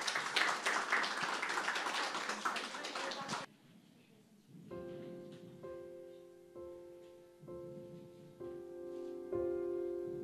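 Audience applause at a Polish singing contest qualifier, a loud burst of clapping for about three seconds that stops abruptly before a piano begins playing.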